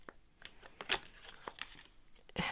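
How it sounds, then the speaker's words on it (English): Tarot cards being shuffled by hand, quiet papery riffles and crinkling rustles in a few short bursts, close and faint. "So I'm going to shuffle the cards a little bit before I do the outcome."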